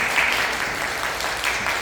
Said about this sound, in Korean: 따뜻하게 박수로 환영해주세요.